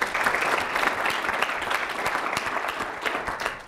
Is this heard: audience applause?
yes